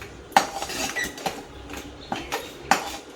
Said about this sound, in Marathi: सतत डवळत राहायचं असं, नाही तर खाली लावायची शक्यता असते.